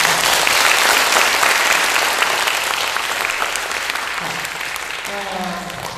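Audience applause at a lecture hall gathering, loud sustained clapping from a crowd that slowly fades, with a voice speaking briefly near the end.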